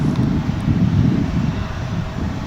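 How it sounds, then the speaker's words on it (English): A plane arriving at DFW International Airport, landing on runway 18 left, produces a loud steady low engine rumble with a windy, broadband roar and no voices. "We've got a plane coming in now"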